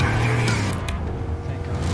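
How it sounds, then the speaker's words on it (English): A video game car engine hums and revs loudly up close, its motor tone shifting over a couple of seconds. "Do you hear that car?"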